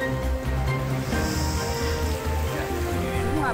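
Floodwater rushing through a burst embankment near Spring Hill in Bandar Lampung, a loud, dense, continuous roar of water with a steady hum and faint talk mixed in.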